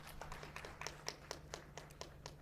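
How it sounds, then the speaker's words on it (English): Sparse clapping from a small audience at a devolution conference plenary, distinct individual claps in an irregular rhythm over a steady low hum, fairly quiet and somewhat distant. "I think from the plenary we should clap for the counties on this"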